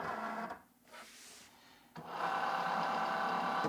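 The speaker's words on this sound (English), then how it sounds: "take the Cricut Joy Xtra card mat and load it into our machine" A Cricut Joy Xtra cutting machine draws a card mat in with a steady motorized whir, which pauses briefly before a louder, continuous mechanical hum takes over.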